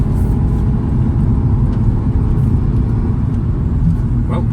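Alpine car accelerating to overtake on a proving ground test track, heard from inside as a loud, steady low engine and road rumble that holds throughout without a clear rise.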